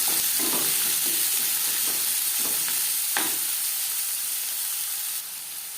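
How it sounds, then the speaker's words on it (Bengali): Chopped onion, cut fairly large, fries in oil left over from frying tilapia, a steady loud sizzle with a few soft stirring scrapes, no voices. "মাছ ভেজে নেওয়া তেলে দিয়ে দেব পেঁয়াজ কুচি"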